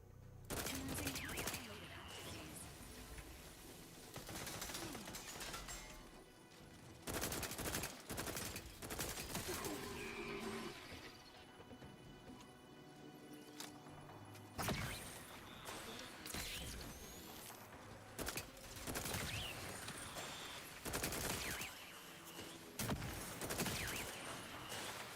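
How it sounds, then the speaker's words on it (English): Turrets in the sci-fi video game The Outer Worlds 2 fire in rapid volleys, with dense bursts of gunfire that come and go over game sounds and occasional talk. "There's like 12 freaking turrets in there"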